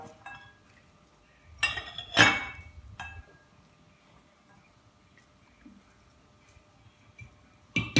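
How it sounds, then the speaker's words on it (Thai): Garlic cloves smashed for a Thai stir-fry, landing as a few sharp clinking thuds against a hard surface, two close together, then one more and a final hit at the end, with quiet gaps in between. "อันดับแรกเราทุบกระเทียมก่อนครับ"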